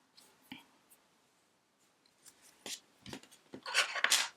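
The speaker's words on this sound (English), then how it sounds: "And then you can go ahead and snip off that end" Scissors snip off a crochet yarn end on mini bunting in a few short, close cuts that turn into rapid, louder snipping and rustling toward the end.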